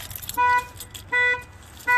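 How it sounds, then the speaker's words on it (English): A loud car alarm on a Ford Fusion blares in three short, evenly spaced electronic bursts, close by, with quiet gaps between. "the alarm went off"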